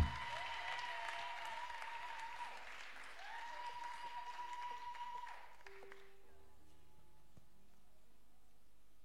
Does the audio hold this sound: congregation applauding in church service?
yes